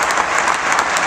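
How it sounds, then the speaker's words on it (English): A press conference crowd gives a dense, steady round of applause, loud and continuous throughout with no pauses and no voices on top. "Give her a round of applause, please"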